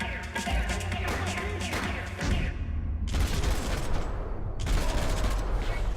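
Heavy bursts of gunfire from the video game Max Payne 3, loud and dense rapid volleys filling the clip, broken by two brief gaps before the shooting resumes.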